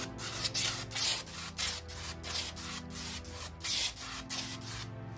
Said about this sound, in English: I'm gonna go ahead and put a clear coat on this just so I can kind of bring this red out a little bit more